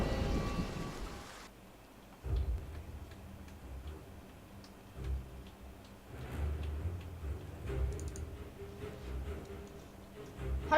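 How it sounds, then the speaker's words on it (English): Soft rain falls in a video game, a faint, steady patter under a quiet scene, with occasional low rumbles, a few ticking clicks, and a sharp game noise at the start. "It rained relentlessly."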